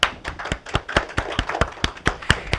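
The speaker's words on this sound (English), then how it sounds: "Everybody give Stephanie a round of applause" A few people clap in a small room, sparse, separate sharp claps at an uneven pace, close and fairly quiet.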